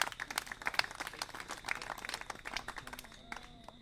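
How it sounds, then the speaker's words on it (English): An audience at a presentation on sea urchin restoration gives a round of applause, with faint, somewhat distant scattered clapping that thins out toward the end. "Round of applause for Care Trans, please."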